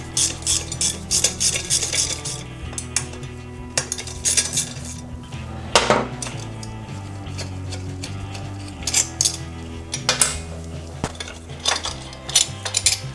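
Screws being removed from the regulator mount on a 1991–2003 Harley-Davidson Sportster, with repeated metallic clinks, ratcheting clicks and small metal parts rattling, loud and close in irregular bursts throughout.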